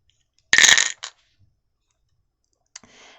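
Dice being rolled during a tarot reading, a sharp burst of rattling clicks as they tumble and settle, a brief second clatter, then a faint later rattle, close and otherwise quiet.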